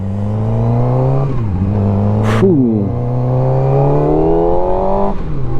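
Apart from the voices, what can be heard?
SRK421 RR motorcycle stock exhaust revving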